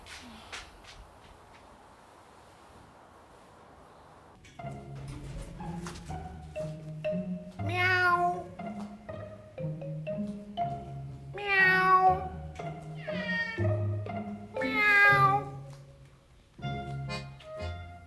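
A cat meows repeatedly, several loud, rising cries spaced a few seconds apart, close by, after a stretch of quiet background hum.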